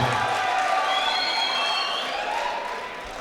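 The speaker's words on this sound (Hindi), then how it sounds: "एक बार जोरदार तालियां बजा के इस्तकबाल करें सुल्तान साहिबा" Audience at an All India Mushaira in Malegaon applauds and cheers to welcome poet Sultan Jahan, a steady wash of clapping that fades gradually over a few seconds.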